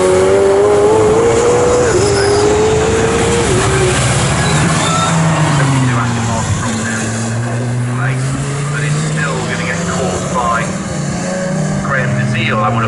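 GT race cars, including Lamborghinis and Ferraris, roar past on the Snetterton circuit in a wet race, engines rising and falling in pitch as they pass, with a commentator talking over them.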